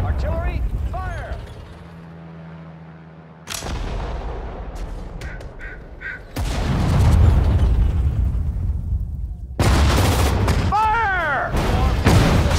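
Artillery fire and explosions in Sudden Strike 4, a World War II strategy game set at the Battle of the Bulge: heavy booms and rumbling blasts hit repeatedly, loud and close, mixed with mechanical clanking and shouted voices.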